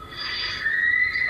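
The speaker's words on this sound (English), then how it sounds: "this terrifying shriek made my hair stand on end" A terrifying, sustained high shriek rings out from a news video played back at the scene of an incident, loud and alone, rising and holding for about a second.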